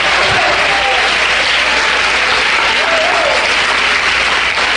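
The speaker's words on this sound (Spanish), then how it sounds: "Fuerte los aplausos para Cristo." A church congregation applauds loudly and steadily, dense clapping filling the room without a break, with faint voices calling out beneath it.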